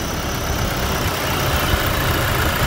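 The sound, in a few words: pickup truck engine idling with belt noise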